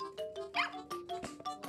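A virtual dog in the video game Nintendogs + Cats gives a run of short yips and barks in quick succession. The barks are close, bright and high-pitched, with game music underneath.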